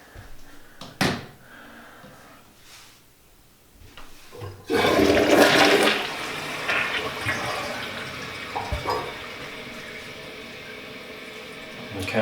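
A DXV Equility Extreme toilet loaded with an entire roll of toilet paper clicks and clunks quietly, then bursts into a loud, rushing flush that settles into a lingering gurgling swirl.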